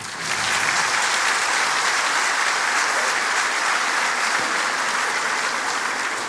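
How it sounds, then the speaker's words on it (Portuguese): A church congregation applauds, with loud, dense clapping sustained evenly for several seconds and fading slightly toward the end. "uma salva de palmas para os que já leram"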